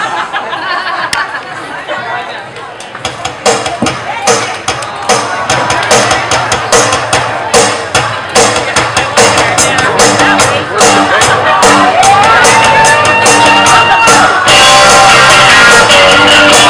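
A crowd at a Pierogi Fest song contest, loud and near, with dense chatter, cheering and laughter building over a steady rhythmic beat, voices mixed throughout.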